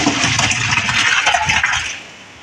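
Water poured off and draining from a pot while cooking boti curry, a loud splashing gush that runs steadily for about two seconds, then tapers off into a quieter trickle.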